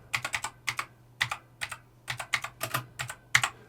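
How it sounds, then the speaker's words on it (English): Fingers tap quick bursts of keystrokes on a computer keyboard, clustered clicks in short groups with brief pauses between, close and clear over a faint steady hum. "the tapping of keyboards"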